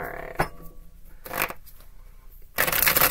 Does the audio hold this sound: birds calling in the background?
no